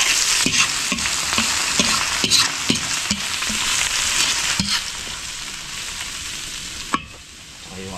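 Garlic sizzles steadily in hot oil in a pan, with a broad frying hiss broken by regular scraping stirs, then the sizzle quiets near the end after a final clink.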